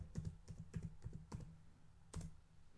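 A password being typed on a computer keyboard during Windows 10 network setup: a quick run of close, crisp key clicks, a short pause, then a final firm keystroke, all without talk.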